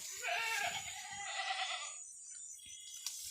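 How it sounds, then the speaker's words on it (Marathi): Goats on a farm bleat loudly at close range in a couple of overlapping calls, fading into quiet background noise. "शेळ्यांना किती पण खायला टाकले ना तरी त्या दुसऱ्याच्या साईडने टाकत असल्या का बोंबलायला चालू करतात"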